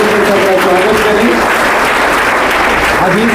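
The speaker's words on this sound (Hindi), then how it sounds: "एक बार फिर से ताली बजा दीजिए, जोरदार ताली से सबका स्वागत करें।" An audience at a school farewell ceremony for tenth-grade students applauds loudly and continuously from start to finish, with a dense, close wash of clapping and a voice talking over it.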